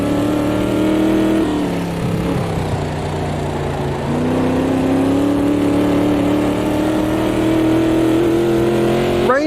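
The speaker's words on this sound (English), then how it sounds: "Just hear the revs spin up then." A race car engine in the sim racing game Automobilista 2, on track at Monza, revs steadily with smooth pitch climbs and a dip around two seconds, a loud continuous drone with no talk.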